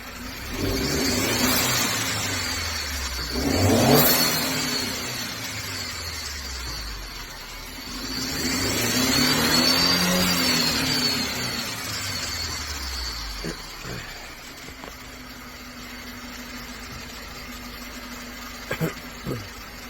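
A 2013 Mercedes-Benz C250 with a misfire revs up twice in long rising and falling sweeps, then settles into an uneven idle broken by a few sharp ticks and pops.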